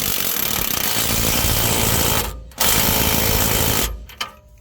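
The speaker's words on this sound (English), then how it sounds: "grab your 21mm deep socket and torque this nut down to 85 foot-pounds" A power socket tool with a 21mm deep socket drives down a nut on a Ford F150 integrated wheel end, a loud dense rattling buzz in two bursts split by a short pause, close and without talk.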